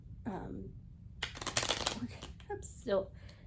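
Deck of playing cards shuffled by hand, with a brief riffle early then a longer, louder burst of crisp flapping and a couple of short follow-up riffles, with a voice speaking briefly between them.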